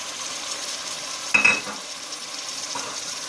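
Shredded chicken and onions sizzle steadily in a hot pot, with a brief metallic clink and stirring scrape partway through.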